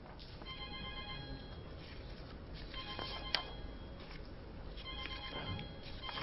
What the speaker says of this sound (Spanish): el teléfono le está sonando a alguien